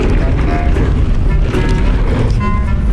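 Strong wind buffets the microphone outdoors on a mountain bike jump line, a loud continuous roaring rush that covers the whole moment without a break.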